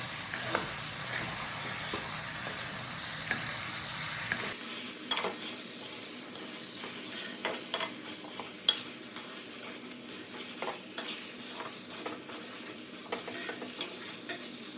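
Chicken fried in a pot is stirred steadily, with a continuous sizzle and repeated scrapes and clinks of a utensil against the metal. The sound is close and alone, with no talking.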